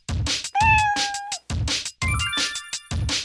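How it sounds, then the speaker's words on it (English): A cat meowing twice in a row in a children's animal song, each meow long and drawn out, close and loud, with song backing around it. "What's this? What's this? It's a cat."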